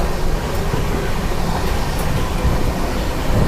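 A passenger train on the Subedarganj Dehradun Express route rumbles along the rails, a loud, continuous low roar heard from inside the carriage without any talking.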